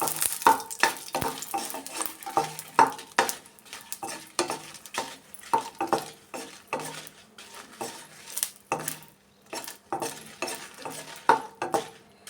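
Byadagi and Guntur red chillies frying on low heat in a pan: a spoon scrapes and clinks steadily against the metal over a soft background sizzle, close and fairly loud, with no voices.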